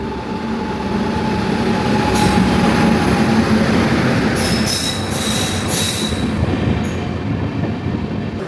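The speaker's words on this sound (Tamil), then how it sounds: "திருநெல்வேலியிலேருந்து மங்களூர் போகிற எக்ஸ்பிரஸ் வந்து இன்னும் கொஞ்சம் நேரத்தில் அரைவல் ஆக போகுது பழனிக்கு" The Tirunelveli–Mangaluru express pulls into Palani station with loud, continuous rail rumble, screeching wheel squeal and clattering carriages close by, growing heavier as it arrives.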